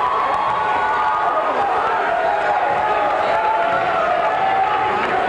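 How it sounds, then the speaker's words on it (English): A high school basketball crowd in a gym cheers and shouts steadily throughout, a loud, dense roar of many voices with children's yells mixed in. "as the crowd comes to life"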